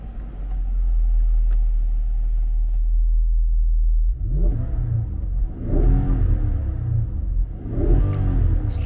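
A Nissan Patrol Royale V8 SUV idles with a low steady rumble, then its engine is revved hard three times in loud, rising bursts close by, with no talk.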